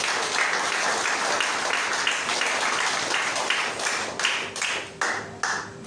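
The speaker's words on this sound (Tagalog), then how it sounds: "Pumalakpak sa Panginoon." A church congregation claps and applauds together in a steady, dense wash that breaks into a few separate claps near the end, with no voices heard over it.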